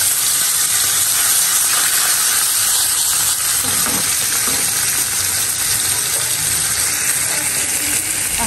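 Hilsa fish frying in hot oil gives a loud, dense, unbroken sizzle close by, steady throughout with no voices.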